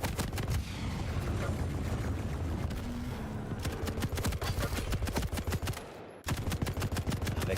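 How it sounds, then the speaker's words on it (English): Rapid bursts of heavy machine gun fire in a competitive first-person shooter match, sharp repeated reports in dense strings with a brief pause near the end before the firing resumes. "Can't really take too much more of this heavy machine gun that's peppering out."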